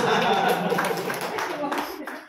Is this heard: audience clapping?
yes